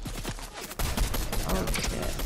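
Video game gunfire: rapid bursts of shots, with faint clicks early and then a dense, loud volley that carries on to the end, while players' voices sound underneath.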